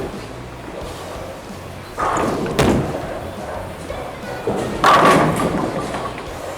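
A bowling ball strikes the pins with two heavy crashes, each a loud clattering burst with a rumbling tail, set against a quiet alley background.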